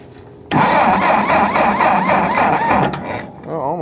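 A cheap refurbished tractor engine cranking as it struggles to start, the starter kicking in abruptly and churning loudly and rhythmically up close for a few seconds before easing off.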